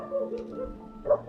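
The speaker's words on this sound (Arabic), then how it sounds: "سايبين الكلاب هرج ومرج وهوهوة؟" Several dogs are bark-yipping in the morning. Short, mid-loud yips and a small whimper rise over a steady low background hum, with a sharper bark near the end.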